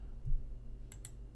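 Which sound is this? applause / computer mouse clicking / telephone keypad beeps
computer mouse clicking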